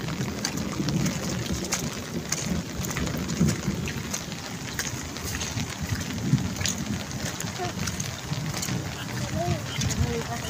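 Heavy monsoon rain pours steadily in Osmanabad with a dense, close hiss of drops on surfaces and a low rumble beneath, while voices talk faintly under the downpour.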